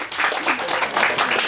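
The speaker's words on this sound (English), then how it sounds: "Give them a big round of applause." Audience applause at a hypnotist show, a dense, steady wash of clapping filling the room for a second and a half, fairly loud and close with no talk over it.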